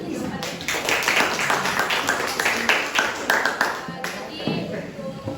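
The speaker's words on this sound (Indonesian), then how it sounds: "Kita beri tepuk tangan sekali lagi." A classroom of students claps together during an Indonesian lesson, with brisk overlapping applause that stays steady and fairly close for about five seconds before fading, and a faint voice mixed in beneath it.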